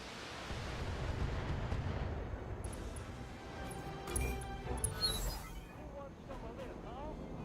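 An AC-20 autocannon turret fires in the mech game BattleTech, heavy booming cannon blasts rumbling over a low battlefield din, quiet and somewhat muffled beneath someone talking, with a sharper burst near the middle.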